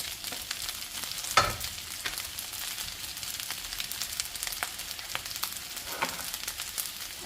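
Sweet corn and peas stir-frying for vegetable fried rice in a home kitchen, a steady crackling sizzle with a few sharper spatula clinks and scrapes, close and moderately quiet.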